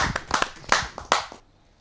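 A few sharp, scattered hand claps from an audience at a Hindi poetry gathering, about half a dozen irregular slaps in under two seconds, close and fading out.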